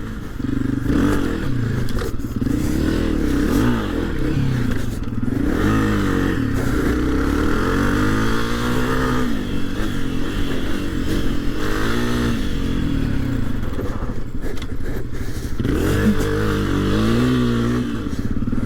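A 2022 Honda CRF250F dirt bike ridden on a small motocross-style track, its engine loud and close, revving up and down repeatedly with rising and falling pitch as it accelerates through turns.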